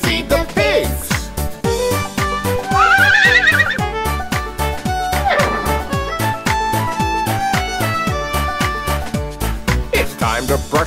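A cartoonish horse whinny rises and falls once near the middle of a bouncy children's farm song, sung over steady music with a bright sweeping call standing out briefly.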